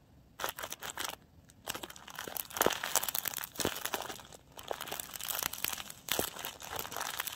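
A large handmade paper squishy filled with vinyl and cotton crinkles and crunches up close in quiet ASMR handling, with irregular bursts of dry rustling and crackling, some sharp and some softer, and no talking.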